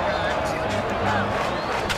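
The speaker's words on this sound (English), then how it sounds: "They're down by one, but the fans are still cheering." Ballpark crowd noise in MLB 2K8 during a playoff game at the Houston Astros' home park, a steady wash of cheering and murmuring fans that holds throughout, with a commentator's voice over it.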